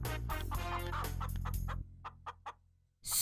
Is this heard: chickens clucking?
yes